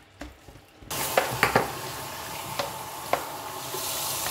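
Brush scrubbing a greasy cooker hood filter, a steady wet rasping with a few sharp clicks and taps, starting abruptly after a quiet moment and continuing up close.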